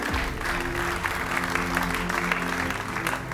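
Applause from an audience at a French business talk welcoming two bank representatives, steady and moderately close, with a low hum beneath it.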